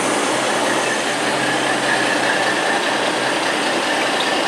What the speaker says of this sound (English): The train just moved.